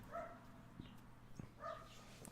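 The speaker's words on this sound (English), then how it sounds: "Apologies for the dog barking." A dog barks twice, faint and somewhat distant, two short separate woofs in an otherwise quiet indoor room.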